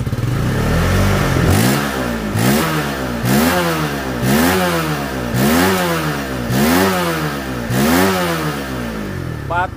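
A Honda CB150 motorcycle engine, an older model, is revved close up in a steady series of about seven quick throttle blips, each rising and falling sharply over a loud running engine, with no talk.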